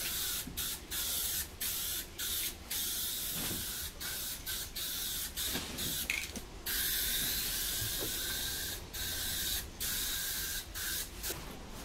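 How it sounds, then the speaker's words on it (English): Aerosol grey paint sprays onto a car's side skirts in repeated short bursts of hiss, nearby and steady. Brief pauses fall between the passes. "I had some grey paint, so just sort of colour matching those Primera side skirts we put on there"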